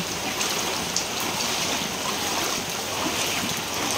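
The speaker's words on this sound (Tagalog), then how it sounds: "Grabe baha dito." Floodwater rushes through a flooded Manila street during a typhoon. It makes a dense, steady broadband wash of flowing water with no breaks.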